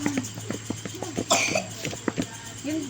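Repeated coughing from a sick person at an outdoor home grilling setup, a string of close, sharp bursts spread across the moment with a brief throat-clearing quality, no speech over it.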